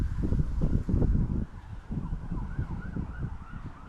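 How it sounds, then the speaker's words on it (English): Emergency sirens wail faintly in the distance, a rising and falling tone underneath louder nearby clattering and rustling sounds close to the listener. "Lovely sirens in the background."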